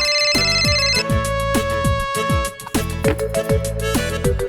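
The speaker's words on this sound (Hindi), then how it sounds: "उसने सामने से फोन किया है" A mobile phone ringtone plays loudly and close, a repeating melodic electronic tune with a driving beat that carries on for several seconds with no voices over it.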